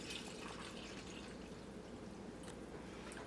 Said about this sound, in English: I'm going to gently pour the baking soda solution in.